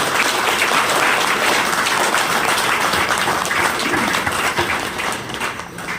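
Audience at a celebration function and business seminar breaking into loud sustained applause, dense clapping from a large crowd held steady and tapering slightly at the end.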